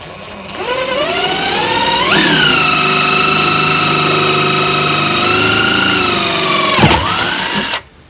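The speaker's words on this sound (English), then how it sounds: "So we got our half hole drilled from the exterior." A power drill bores a hole for a bed rail reinforcement bracket on an Arctic Cat Prowler Pro or Tracker SX UTV, a loud steady whine that rises in pitch, holds, dips briefly as it bites, then stops abruptly.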